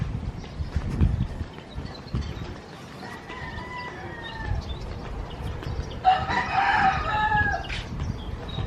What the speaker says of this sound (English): So many people complain about the roosters